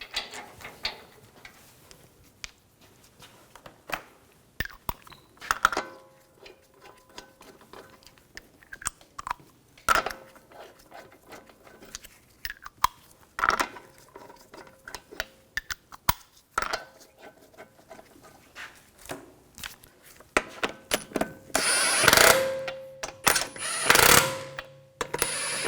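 Lug bolts on a 2011–2018 Volkswagen Jetta front wheel being snugged down, heard as a string of separate short ratcheting clicks and metallic tool crunches with pauses between them. A louder burst of ratcheting comes near the end, and there is no talk.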